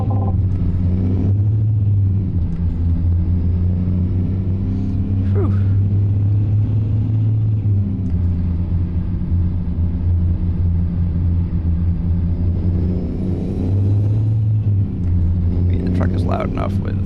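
A modded truck in a driving game rumbles with a loud, steady low engine drone that swells and eases over time, with a few brief higher clicks near the end.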